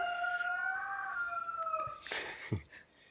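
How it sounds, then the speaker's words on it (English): A rooster crows once, a long rising and falling call fairly close, followed by a few rougher clucking notes and rustling. "that's Robert Palmer, the rooster"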